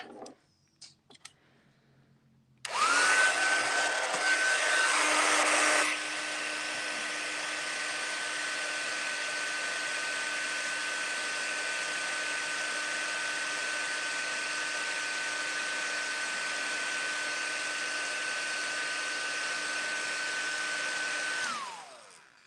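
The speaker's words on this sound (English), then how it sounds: "I'm gonna heat set with my heat tool." A craft heat tool blasts steadily to heat set embossing powder, a loud, constant blowing whine with a fixed tone that starts abruptly after a few quiet seconds, runs for about twenty seconds and then winds down.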